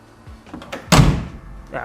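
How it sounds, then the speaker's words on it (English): A car door swings shut with a single loud slam, preceded by a few softer clicks and rattles of the handle and latch, then a brief ringing decay afterward. "let's see what happens when I close the door"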